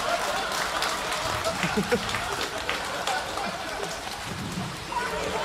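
Rain falls steadily behind a stand-up comedy set, a broad, constant hiss of drops pattering on surfaces, with a voice talking over it.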